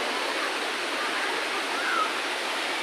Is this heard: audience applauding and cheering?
no